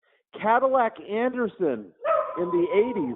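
A pet dog barks and yips in quick bursts close to a microphone, the sharp woofs mixing with someone talking over them.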